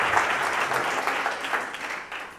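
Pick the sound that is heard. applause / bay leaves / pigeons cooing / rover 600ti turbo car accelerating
applause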